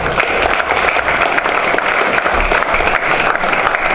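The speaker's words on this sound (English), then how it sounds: "So let's give him a round of applause." Loud, dense applause from an audience at a community event, a continuous close wash of clapping without pauses.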